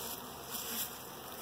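Honeybees buzz in a steady, dense drone throughout while a nuc is being installed into a hive, close and continuous with no talking.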